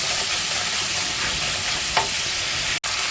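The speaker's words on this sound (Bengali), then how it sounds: "ভালো করে এটাকে কষাবো।" Ginger-cumin spice paste sizzles in a hot pan while being stirred, a steady close frying hiss with a brief scrape of the spoon and a sharp knock near the end.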